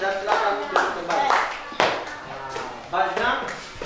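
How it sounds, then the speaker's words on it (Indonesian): Students in a classroom clap their hands in a few uneven bursts of rhythmic clapping, close and moderately loud, with a teacher's and children's voices speaking over and between the claps. "silakan tepuk tangan dan silakan duduk kembali"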